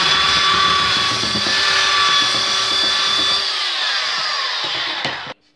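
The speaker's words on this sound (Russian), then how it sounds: "Для этого мы используем шлифовальную машинку." A belt sander grinds across a rough wooden blank for a laser-cut wooden magnet, a loud steady abrasive whirr with a whining tone that winds down and stops near the end, no voices.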